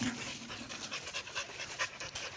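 A dog pants loudly and quickly in a steady rhythm of breathy huffs, heard close and alone.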